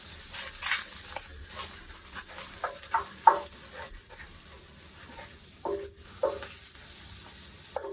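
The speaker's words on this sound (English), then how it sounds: "Scrape off some of these pieces off the bottom." A utensil scrapes browned bits of pork off the bottom of a hot pan into the sauce, with short intermittent scraping strokes over a soft sizzle, close up and fairly quiet.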